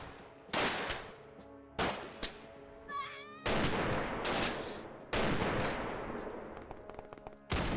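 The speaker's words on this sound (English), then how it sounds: "Sound like a light cannon." Light cannon fire in the X-Com Files video game, with several loud, sharp blasts that decay into rumbling tails, plus a short warbling effect between the shots.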